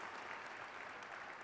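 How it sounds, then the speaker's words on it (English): Steady applause from a conference audience at a meetings-industry event, an even wash of many hands clapping throughout without a break. "Let's give them a quick round of applause"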